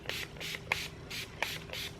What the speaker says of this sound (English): Shake it up first, and then you just simply spray it.